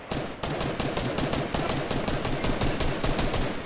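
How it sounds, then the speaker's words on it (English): Gunfire in Fortnite, a rapid, dense string of loud cracks repeating steadily for the whole few seconds with no pause between them. "Oh, that sounds like a hunting rifle."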